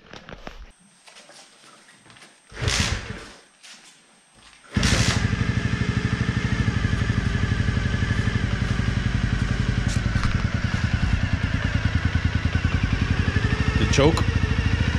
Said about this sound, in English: So let's fire this thing up so you can hear it.